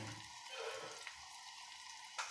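Potatoes tempering in hot oil in a home pan, a soft, steady hiss and sizzle with a couple of faint clicks, quiet and close with no talking.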